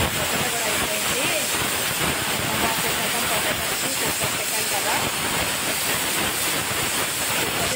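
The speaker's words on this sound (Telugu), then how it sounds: "3 to 4 whistles వచ్చేసినాయి. కుక్కర్తో స్టవ్ ఆఫ్ చేశాను." A pressure cooker on the stove, cooking a potato, meal maker and peas curry, releases steam in a loud, continuous hiss that stays steady and close throughout, with no pauses.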